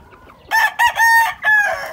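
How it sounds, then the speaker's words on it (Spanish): A rooster crows loudly and close by, a single drawn-out call broken into several bursts over about a second and a half. "Aquí vamos con los pollitos."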